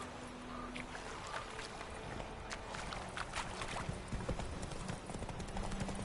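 Horse hooves clip-clop steadily in The Witcher video game, a continuous rhythmic trot at moderate distance over an ambient game soundscape with faint background noise.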